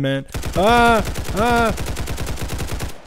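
Rapid automatic fire from an AK-47 in the Roblox game Paragon Zombies, a steady stream of close, evenly spaced shots running the whole time while someone talks over the first half.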